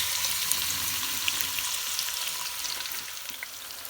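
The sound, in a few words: chopped onions frying in warmed oil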